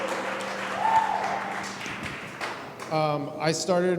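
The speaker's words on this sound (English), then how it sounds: "give yourself a round of applause" Applause from a large crowd at a music business talk in Athens, Ohio, patters under ongoing speech, then swells near the end into denser clapping alongside the voice.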